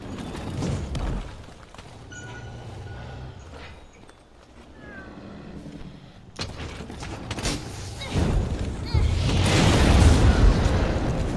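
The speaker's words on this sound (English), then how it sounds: "Oh, look at the explosions!" Explosions in Monster Hunter: World during a Deviljho battle boom and crackle in bursts, growing louder and denser toward the end, with some rumbling in between.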